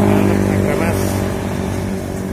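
Scania bus engine on an Agra Mas premium coach runs with a loud, steady low rumble and rising revs, close by, with a voice over it.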